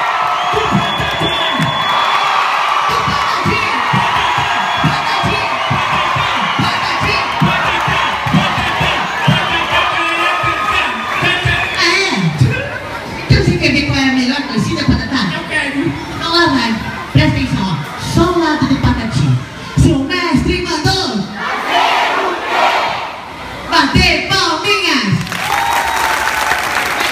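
At a Patati Patatá Circo dos Sonhos circus show, a large crowd of children and fans cheers, shouts and claps loudly in repeated surging waves, with a performer's amplified voice calling out over the noise.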